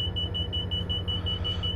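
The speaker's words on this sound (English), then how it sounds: "I don't know what's causing that alarm to come up." A cab alarm inside a Class 57 Freightliner locomotive sounds as a steady, rapidly pulsing high beep, repeating evenly throughout over a low engine hum, with no one speaking.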